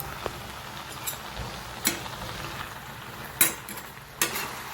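Ghee goes into a pan of carrot halwa with sugar and cardamom, a soft, continuous sizzle punctuated by a few sharp scrapes and clinks of a spoon stirring against the pan.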